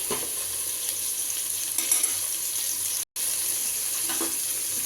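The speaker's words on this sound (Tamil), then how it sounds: "வெங்காயம் போட்டாச்சு. வெங்காயம் ஓரளவுக்கு பொன்னிறத்துக்கு வரட்டும்." Onions fry in a pan for chicken biryani, a soft, steady sizzle and crackle at low volume with occasional stirring scrapes, heard alone without talking.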